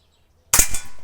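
A 5.5 mm air rifle fires a single sharp, loud shot after near silence, followed by a short ringing tail.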